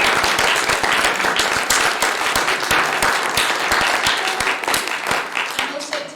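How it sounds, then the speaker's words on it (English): Audience applause closing a plenary session on retrofitting in Liverpool: dense, steady clapping from a large crowd fills the whole stretch, loud and close, fading slightly near the end. "extra round of applause for our catering team today."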